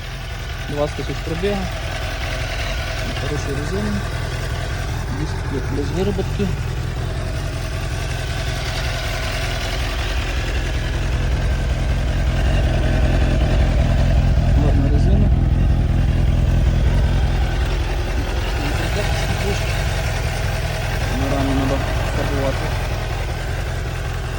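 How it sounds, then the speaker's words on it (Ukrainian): A 600cc fuel-injected motorcycle engine idles steadily with a low rumbling throb, and a voice talks intermittently over it. "Це звуки 600 кубиків, інжекторний."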